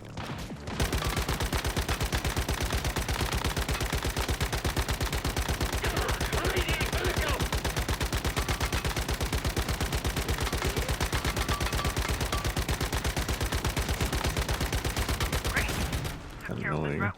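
Rapid, continuous automatic gunfire from the video game Once Human rattles loud and close for about fifteen seconds without a break, then cuts off near the end.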